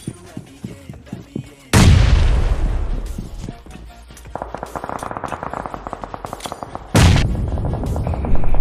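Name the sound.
Groza rifle gunfire in BGMI video game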